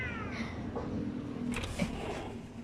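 Several cats meow and caterwaul indoors in a continuous, fairly loud stream of yowls, with no talking over them.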